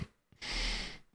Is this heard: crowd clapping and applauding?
no